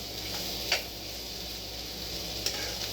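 Onion sautéing in a home-kitchen pan for paneer bhurji gives a steady, soft sizzle all the way through, with a couple of brief stirring knocks from the spoon.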